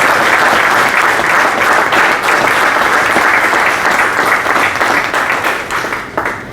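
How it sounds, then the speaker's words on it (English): Loud, sustained applause from a conference audience welcoming a panelist onto the stage at a consulting conclave, dense clapping that holds steady throughout and tapers slightly at the end, with no talk over it. "join us in welcoming Mr. Prashant Prabhakara with a huge round of applause"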